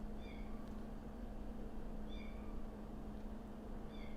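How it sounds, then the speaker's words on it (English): Kitten meowing outdoors, a few short high cries spaced about two seconds apart, faint and distant over a steady low hum, with no talking. "there's a kitten outside"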